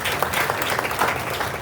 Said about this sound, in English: A huge round of applause for all of you.